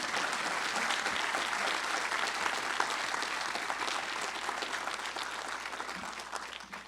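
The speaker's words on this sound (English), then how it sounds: "Please join me in a round of applause for these partners" Steady, dense audience applause at a talent pipeline project signing day ceremony, sustained at an even level for the whole stretch and tapering only slightly at the end.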